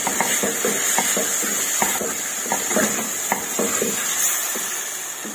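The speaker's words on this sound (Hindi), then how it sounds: "अब मैं इनको अच्छी तरह से मिक्स कर लूंगी।" Spoon stirring a tomato, onion and spice masala in a pan over a low sizzle, with a steady run of soft scraping and clinking strokes close by, no voices.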